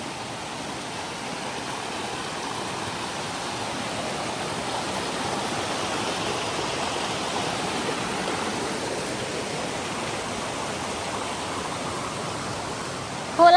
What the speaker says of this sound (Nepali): खोलो पनि सफा न सफा।